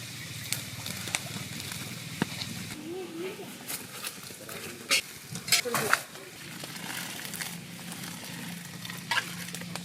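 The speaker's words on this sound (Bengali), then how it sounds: "আলু ভাজা হয়ে গেছে, নামিয়ে নেব।" Salted potatoes fry in a pan in a village cooking setting. A soft sizzle runs throughout, with a few louder stirring clatters near the middle.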